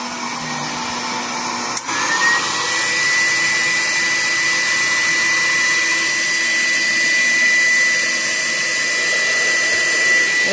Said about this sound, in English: Let's run my new filter queen I just bought.